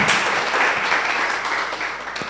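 An audience at a memorial lecture applauds in a dense, steady burst of clapping that carries through the moment and fades slightly toward the end.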